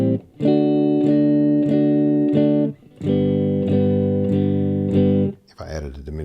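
Distorted electric guitar plays a sequence of double-stop fourths, each chord struck sharply and held in a steady repeating pattern across two loud phrases, ending with a brief noisy scrape.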